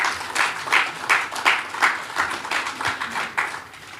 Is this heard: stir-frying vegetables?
no